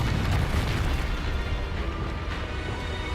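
A Confringo fire spell blasts in Hogwarts Legacy, a loud, sustained booming roar with rumbling low end that stays dense and steady for about three seconds, with no talking over it.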